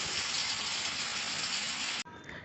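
Early morning autumn rain falls in a steady, dense hiss that holds evenly, then cuts off abruptly near the end.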